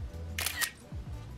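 A headphone setup app on a phone fires a simulated camera shutter during photo capture, giving a quick two-part click and snap, close and moderately loud, over faint background noise.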